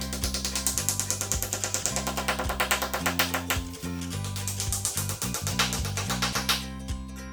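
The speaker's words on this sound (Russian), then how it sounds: "Наживил саморезы в столбе так, чтобы их концы вышли наружу" Self-tapping screws are driven into a wooden stair post, a loud, rapid mechanical ratcheting whir with a rhythmic clicking pulse that runs steadily through the clip and then stops near the end.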